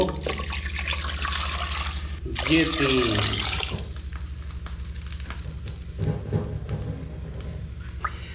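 Half a litre of water gushes and splashes into a pot of chicken stock for a few seconds, then trickles off as someone speaks over it.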